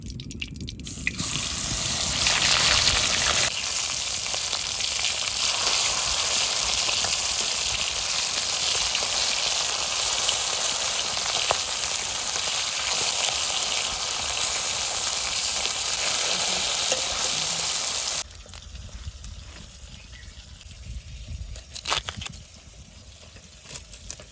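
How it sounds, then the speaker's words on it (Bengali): Fish sizzles steadily in hot oil on a home stove, a dense, loud frying hiss that runs unbroken for most of the clip before dropping to a quieter crackle near the end. "তেল গরম হয়ে গেছে এবার মাছ দিয়ে দেবো"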